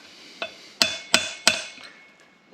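A part being hammered into a VR Commodore tail shaft during a rebuild, with four or five close, sharp metallic blows, the later ones landing as more solid hits with short ringing decays.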